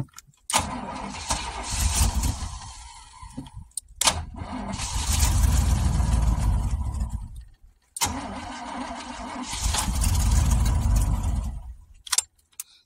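Old mouse-infested car engine cranking over with a little throttle, three long churning starter bursts separated by pauses and a brief fourth stab, never catching; close and steady, with no talk during the cranking.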